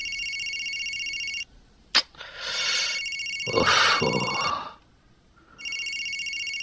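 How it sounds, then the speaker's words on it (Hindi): A telephone rings with a bright electronic trill that repeats in bursts, cutting off as other louder noises and movement take over, then resuming near the end. "अभी नेताजी का फोन,"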